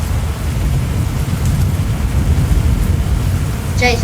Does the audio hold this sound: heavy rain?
yes